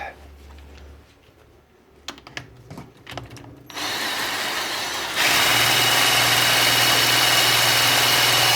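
A prototype gear cutting box attachment on a Grizzly G0704 milling machine spins up: a few clicks and handling knocks, then a steady mechanical whir that grows louder and holds as a constant hum to the end.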